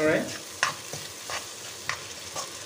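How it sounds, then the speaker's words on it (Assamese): Spices for mutton curry sizzle quietly in a pan with salt while a spoon scrapes and stirs in a few distinct strokes, with a brief brighter sizzle right at the start. "ভালকৈ মছলাখিনি ভাজিব লাগিব।"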